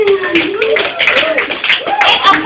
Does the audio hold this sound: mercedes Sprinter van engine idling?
no